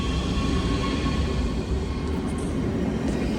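A train idles at a station platform in Germany with a steady low engine rumble and hum, close and continuous, with no speech.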